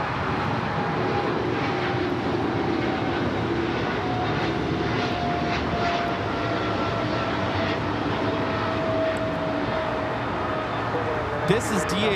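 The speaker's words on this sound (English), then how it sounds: "This is DHL operated by Polar Air Cargo 992, taking off to Cincinnati on the 777 freighter" A Polar Air Cargo Boeing 777 freighter operated for DHL rolls for takeoff at Los Angeles airport, producing a continuous broad jet rumble with faint whine tones, while voices talk over it.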